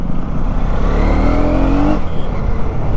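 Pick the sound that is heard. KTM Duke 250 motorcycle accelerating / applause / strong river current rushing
KTM Duke 250 motorcycle accelerating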